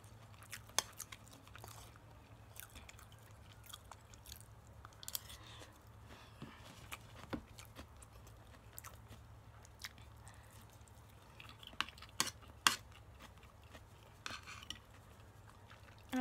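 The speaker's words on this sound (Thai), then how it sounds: "อร่อยมากอร่อยจนไม่พูดเลยกินอย่างเดียวนะ" Someone eats a shrimp mayo sauce dish with soft, close chewing and biting sounds. Sharp clinks of cutlery against a dish come at irregular intervals over a quiet, steady background.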